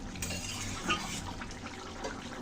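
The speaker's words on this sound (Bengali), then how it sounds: "ভালো করে মিশিয়ে নিচ্ছি" Kashmiri dhoka curry is stirred in a pan, a soft, close wet swishing with faint utensil clinks over a steady low simmer.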